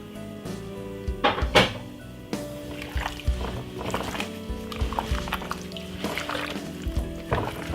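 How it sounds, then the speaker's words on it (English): Sweet chili sauce is poured and dripped onto raw seasoned chicken breast in a home kitchen, giving soft wet splats and a few hollow thunks from the bottle and tray. "What I'm gonna do is just pop a little bit of sweet chili sauce, just to bring in a flavor to it."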